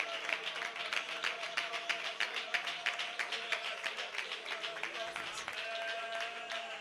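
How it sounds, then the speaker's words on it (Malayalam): Congregation at a Pentecostal church service clapping hands in praise, a steady rhythmic clap from many people that continues throughout under a preacher's loud amplified voice. "ശക്തിയോടെ കൈയടിച്ച് സ്തോത്രം പറയൂ."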